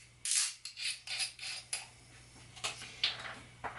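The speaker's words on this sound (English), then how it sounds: "I'm going to crack the top." Screw cap twisted off a Famous Grouse Smoky Black whisky bottle, giving a close series of short metallic clicks and scraping creaks in quick succession, with no talk.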